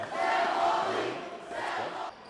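A rowdy high school basketball crowd at a Westwood versus Ishpeming district game shouts a chant in unison, two loud bursts of massed voices echoing through the gym.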